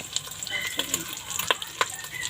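Chopped garlic sizzling and being stirred in rendered pork fat in a pan for adobo, a close steady fry with a few scraping clicks.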